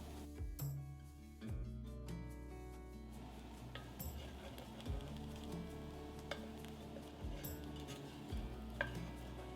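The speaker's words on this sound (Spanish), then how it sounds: "incorporamos el ajo y las especias y removemos durante unos 30-45 segundos para que los sabores se fundan" Onion, garlic and spices sauté in a pan under a quiet, steady sizzle, broken by repeated scraping strokes of a utensil being stirred through them.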